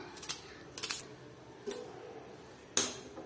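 A single onion being cut on a board while cooking Kerala kadala curry, heard as four separate crisp knife chops spaced irregularly, fairly close and clear with no talking.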